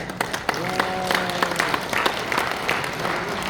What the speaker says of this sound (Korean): 인생의 여름을 보내고 계신 오청환 장로님께 박수